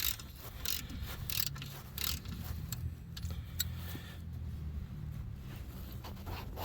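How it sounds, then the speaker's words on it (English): A wrench clicks and ratchets while adjusting the front spring on a Honda Rancher ATV, giving a quiet run of close mechanical clicks and rattles with no one talking. "I had to put a wrench on the top"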